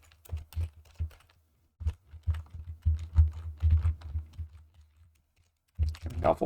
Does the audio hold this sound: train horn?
no